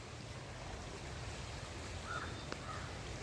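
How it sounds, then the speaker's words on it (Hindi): Evening on the banks of the Ganges at Haridwar, where a couple of crows caw faintly in the distance against a steady wash of flowing water and soft ambient hum. "शाम को बहुत सारे कौवे उड़ते हैं जंगलों के साइड, कोई आते हैं कोई जाते हैं।"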